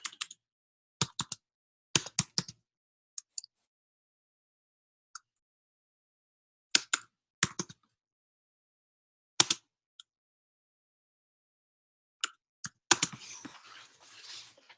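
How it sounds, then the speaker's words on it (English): Computer keyboard typing in short irregular bursts of clicks separated by pauses, close and crisp, ending in a brief rustling noise. "I'm trying to type"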